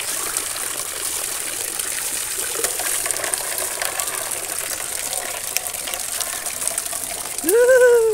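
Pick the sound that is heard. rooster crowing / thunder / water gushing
water gushing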